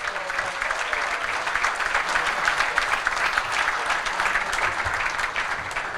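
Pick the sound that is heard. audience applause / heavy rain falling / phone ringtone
audience applause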